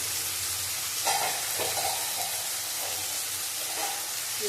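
Hilsa fish and eggplant fry slowly over low heat, a steady close hiss of sizzling oil with a few faint utensil taps and stirring sounds.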